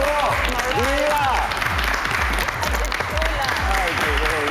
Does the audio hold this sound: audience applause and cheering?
yes